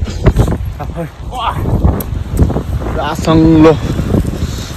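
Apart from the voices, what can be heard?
wind blowing outdoors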